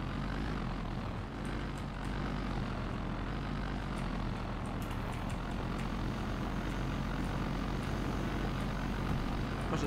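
Helicopter flying overhead in the video game Red Faction: Guerrilla, a steady loud rotor and engine roar that fills the whole stretch without pause.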